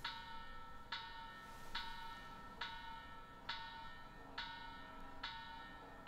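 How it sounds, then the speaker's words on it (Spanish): The historic Mexican Independence bell rings in a steady series of about eight evenly spaced, resonant strikes, distant and faint, each tone lingering into the next. "Dicen que esta campana es la original que tocó Miguel Hidalgo"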